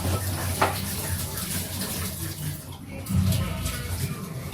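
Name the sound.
water running from a kitchen tap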